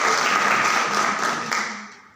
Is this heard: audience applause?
yes